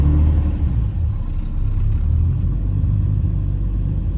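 A tuned turbocharged BMW M50 engine in an E30 idles steadily and close by, a smooth low rumble with an even, unbroken rhythm and no voices over it.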